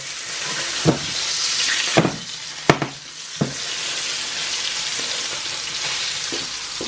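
A steak sears in a hot frying pan with a loud continuous sizzle, punctuated by a few sharp clatters and spatters as the meat is handled and flipped, no voices.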